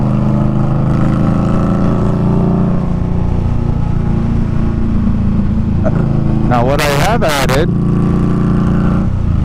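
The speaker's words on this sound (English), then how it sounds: "is the new GP Shorty exhaust tips. So that is what you're hearing now." Engine exhaust through GP Shorty exhaust tips drones steadily on a ride, someone talking over it, then a couple of sharp revs swell near the end.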